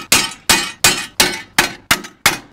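Seven hard hammer blows land on a steel tube drawbar lock with a cylinder lock, spaced about every third of a second. Each is a loud, bright metallic clang with a short ringing decay, and no one speaks.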